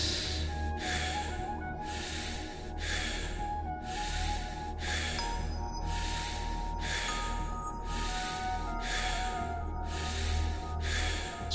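Deep, forceful conscious breathing in a breathwork meditation, with loud rhythmic inhale-exhale cycles of about one breath per second, close and steady throughout over a constant low hum.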